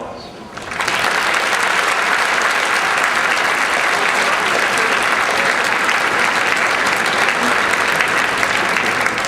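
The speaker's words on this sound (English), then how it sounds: "give your parents a round of applause" Large audience at a 2008 high school graduation commencement applauding loudly and steadily, dense sustained clapping starting after a brief moment and continuing evenly throughout.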